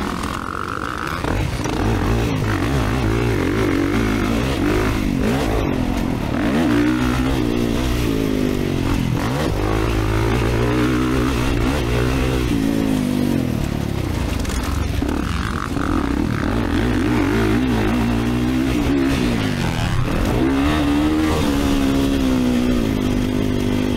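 A 2024 Kawasaki KX450 dirt bike engine revs loud and close on the Eugene MX motocross track, its throttle repeatedly climbing and dropping in long surging waves over a steady rumbling drone.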